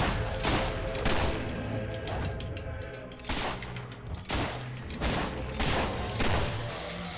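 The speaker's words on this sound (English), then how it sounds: "This gun sounds mean compared to the other one." Repeated gunfire from a weapon in the fantasy video game Fable 3, several sharp loud bursts spaced across the stretch over a dense game soundscape, with no talking.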